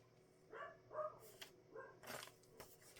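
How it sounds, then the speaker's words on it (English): A dog named PJ barks at bees in front of a house: a few separate sharp barks in quick succession, moderately close but quiet overall, with light handling noises between them and no talk. "the reason you hear PJ barking so much is they are trying to get rid of bees in front of the house"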